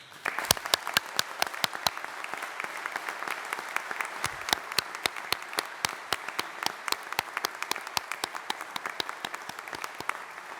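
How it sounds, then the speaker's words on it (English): Sustained applause from a crowd at a graduation ceremony in a chapel, dense steady clapping that carries on evenly throughout. "Let's give them a huge round of applause."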